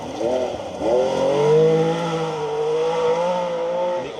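A 3-litre Porsche 911 rally car charges along a forest stage, its engine rising and falling in pitch through a bend and re-accelerating, loud and fairly close with no voices.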